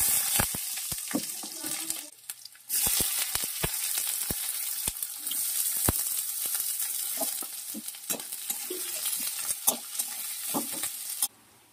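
Whole spices, cardamom, cinnamon, cumin, bay leaf and garlic, sizzle loudly in hot mustard oil in a pan for cooking octopus, a steady frying hiss broken by sharp clicks of stirring, with a brief dip after two seconds.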